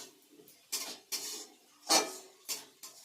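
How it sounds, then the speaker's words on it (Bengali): Spice masala being stirred and cooked down with a splash of water in a pot for Bengali chicken kosha, heard as irregular scraping knocks of a spoon against metal, five or six distinct strokes, fairly close, with no talking. "দিয়ে মশলা ভালো করে কষিয়ে নেব।"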